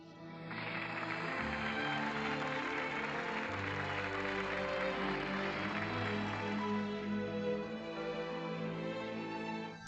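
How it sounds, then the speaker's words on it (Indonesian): Sustained applause from a large crowd, a dense wash of clapping that continues steadily for several seconds without any voices standing out. "saya harap semua orang memberikan tepuk tangan yang meriah kepada istri saya Ibu Zhao Meihua."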